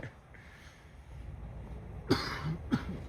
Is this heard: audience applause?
no